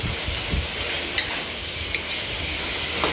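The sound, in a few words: chili added to sizzling chicken curry in pan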